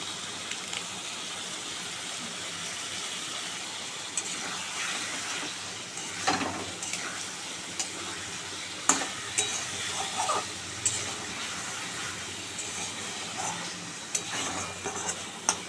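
Potatoes with spices and garam masala are stir-fried in a hot pan for a fish dish, giving a constant sizzle broken by repeated scraping strokes and occasional clanks of the spatula, close by and without speech.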